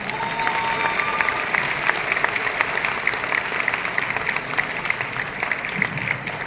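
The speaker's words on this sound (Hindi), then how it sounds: "और तालियां बजाते रहो यार।" An audience clapping steadily, a dense even wash of many hands with occasional sharper claps, sustained at fairly loud level for several seconds without speech.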